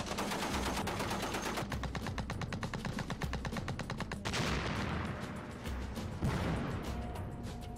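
Tank-mounted machine gun laying down suppressive fire in a military setting, long rapid bursts of loud close gunfire with sharp repeated cracks, then heavier blasts and rumbling echo, no talk.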